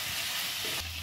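Chicken kosha with green chilli being stirred in a frying pan, giving a steady, close sizzle and frying hiss with soft scraping throughout.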